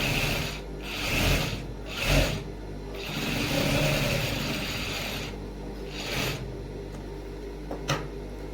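A sewing machine runs in bursts while stitching piping along both sides of a shirt, its mechanical whir rising and pausing in several close, moderately loud runs with short gaps between.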